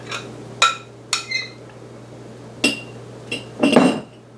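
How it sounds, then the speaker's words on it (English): A utensil scrapes and clinks against a dish while spreading a dairy-free, gluten-free layered dip, giving several separate short scrapes and taps with quiet gaps between them, close to the microphone. "let's scrape this out. And I'm going to spread it around like icing on top."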